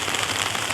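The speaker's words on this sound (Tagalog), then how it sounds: "Umuulan na naman sa bubong" Rain falls on a house roof in a dense, steady hiss of drumming drops, loud and close with no voices.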